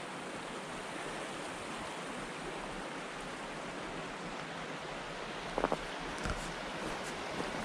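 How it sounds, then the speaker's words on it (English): Mountain stream water running down rocks near Gem Pool on the trail to Mount Monroe and Mount Washington, a steady broadband rushing that fills the clip at moderate distance, with a few brief knocks near the end. "There's some water just coming down."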